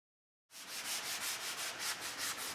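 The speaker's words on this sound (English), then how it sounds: "There was more sanding because I had to sand all my Smurf spots" Basement surfaces being sanded by hand start abruptly after a short silence, then give a close, steady rasping scrub with quick rhythmic back-and-forth strokes.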